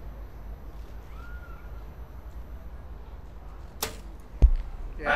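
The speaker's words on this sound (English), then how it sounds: "That sound is the most satisfying sound out there when an arrow hits the good dead center shot of the target." At a compound archery World Cup gold medal match in Shanghai, an arrow snaps off the bow in a sharp crack and strikes the target a moment later with a short, low thud. Both sounds come after a quiet outdoor stretch.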